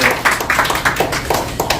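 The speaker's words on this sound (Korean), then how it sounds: "우리 정영준 대표님께 또 다시 한번 뜨거운 박수를 해주시기 바랍니다" Audience at a Korean lecture event applauding the speaker, a burst of close, dense clapping with rhythmic peaks throughout, loud and alone.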